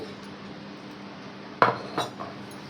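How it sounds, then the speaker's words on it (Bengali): A ladle or spoon clinks against serving bowls a few times while loté fish curry is portioned out, with sharp close knocks over a quiet room hum. "এই দেখো লোটে মাছের ঝোল নিয়ে নিলাম, দুজনে ভাগ করে বাটিতে বাটিতে"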